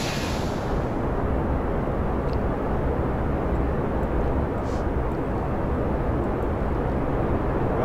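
Rocket launch in Kerbal Space Program: a steady, loud, broadband engine roar that fills the whole stretch without letup, with a brief high tone at the very start.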